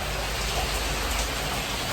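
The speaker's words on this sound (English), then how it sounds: "just got home, raining like a motherfucker." Heavy rain pours steadily, a loud, dense, unbroken hiss of drops drumming on surfaces with no voices.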